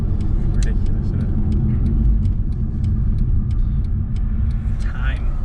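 A car engine grumbles at cruising speed, heard from inside the cabin as a steady low rumble with road noise, with people talking over it.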